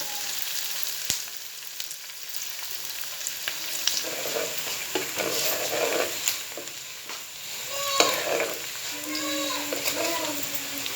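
Onions sizzle and crackle steadily in a hot pan as they turn golden for egg curry, with soft stirring clicks and a few faint voices in the background.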